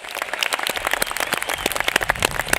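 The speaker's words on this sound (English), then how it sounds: "Let's give these students a round of applause." Audience applause for students at a high school graduation ceremony, a broad field of scattered claps from a large crowd in a hall, continuous and moderately loud throughout.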